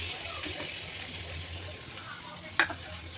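Onion, tomato, cashew, ginger and garlic fry in a spoonful of butter for paneer butter masala, a soft steady sizzle with a single sharp clink near the end.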